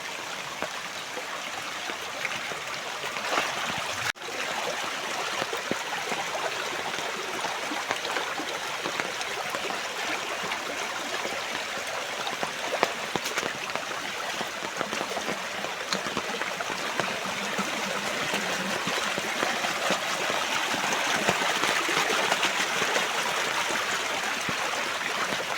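Water runs steadily through a cleared irrigation channel in a farm field, a continuous broad rushing and trickling that grows slightly louder toward the end, with no talk.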